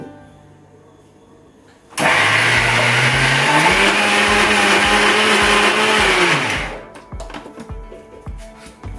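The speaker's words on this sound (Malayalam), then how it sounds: "അര ടീസ്പൂൺ ജീരകം അതിട്ട് അരക്കാം." A mixer grinder grinding aviyal paste with cumin starts abruptly and runs loud and steady for about five seconds, its motor pitch rising once, then cuts off, leaving a few clicks and taps.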